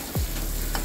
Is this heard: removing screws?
no